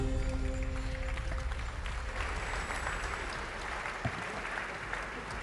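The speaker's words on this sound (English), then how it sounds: "let's give them another huge round of applause" Crowd at the FIA Prize Giving Ceremony gives a sustained round of applause, a dense wash of clapping that holds steady and slightly eases toward the end.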